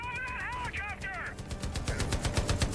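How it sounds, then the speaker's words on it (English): Rapid automatic gunfire rattles in the Far Cry New Dawn video game, a fast, even stream of shots running under a voice at the start and growing heavier and punchier toward the end. "Who's trying to shoot me?"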